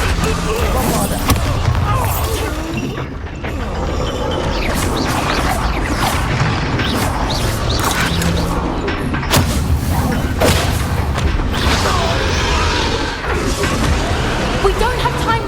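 Bombarda spell blasts in Hogwarts Legacy combat, repeated booming thuds and impacts amid dense battle noise, loud and close, with spoken voices mixed in.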